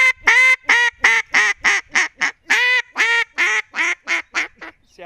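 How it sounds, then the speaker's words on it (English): A Mondo duck call blown in a quick string of about fourteen short, raspy quacking barks with brief gaps, loud and close, alone with no talking. "I'm going to try to blow the Mondo and make it sound like that here."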